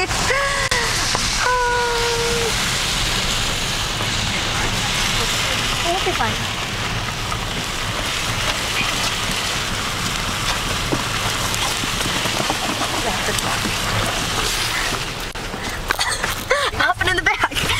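Steady rain falls outdoors near a fiberglass statue yard in Sparta, Wisconsin, a dense constant hiss on surfaces close by, while people talk over it and a few vehicle sounds come in near the end.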